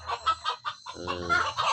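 Village chickens cluck in short, close bursts while being fed leftover rice in the morning, with a few overlapping hen calls and no talking.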